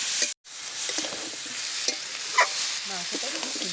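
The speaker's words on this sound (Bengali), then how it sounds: "বেশ সুন্দর করে নেড়ে চেড়ে কষিয়ে নিচ্ছি" Chicken and potatoes are stirred and fried in a pan, giving a steady bright sizzle of hot oil with a few scraping strokes of the spoon and a brief gap near the start.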